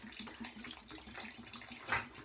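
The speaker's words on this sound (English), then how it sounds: "So I'm going to go ahead, dump out that water." Water pours out of a porcelain shaving scuttle into a sink, a close continuous splashing stream with a brief louder gush near the end.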